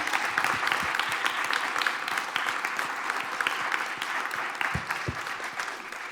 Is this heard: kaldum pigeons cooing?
no